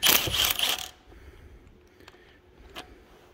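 Metal scraping and ratcheting as a slightly rusty bolt is pulled from a Caterpillar RD-4 engine during disassembly, loud and close for about a second, then a faint clink and a tap in a quiet room.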